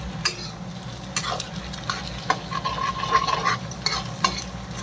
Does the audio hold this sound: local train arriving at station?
no